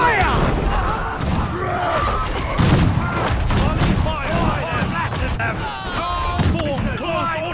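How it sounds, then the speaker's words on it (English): Massed musket volleys crackle and boom on a Conqueror's Blade battlefield, shots rippling densely through the whole stretch with thumps and clatter, while voices shout over the din. "Volley fire!"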